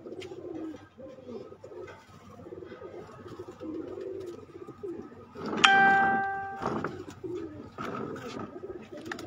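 Champion racing pigeons coo at close range in a loft, with soft low cooing running through and a brief louder burst of wing or call sounds midway, while people talk in the background.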